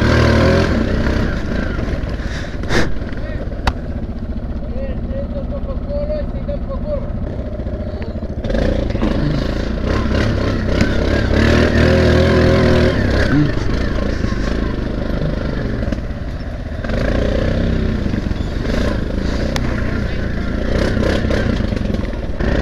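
Off-road motorcycle ride on rough terrain: a continuous engine drone with rising and falling revs and clattering, loud and close, and some voices talking over it.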